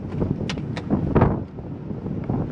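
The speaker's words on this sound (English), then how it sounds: "It is breezy out here." Breeze buffets the microphone outdoors on a 1999 Formula 280 Sun Sport boat, a steady rushing wind with a few brief knocks and clicks nearby.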